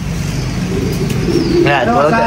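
Soft, low cooing from a loft of racing pigeons, continuing under a voice, with a brief chirp and some background hum.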